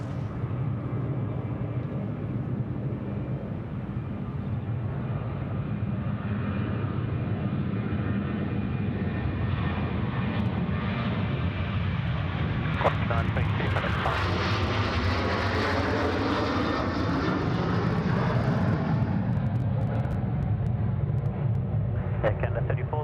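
Qantas jet airliner departing Sydney Airport, a sustained loud engine roar that builds and shifts as it passes, with talk running over it.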